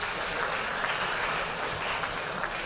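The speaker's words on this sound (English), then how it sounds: "Give yourselves a round of applause." Audience at a winter and spring athletic banquet breaks into steady, dense applause, with many hands clapping together at a constant level for the whole stretch and no pause.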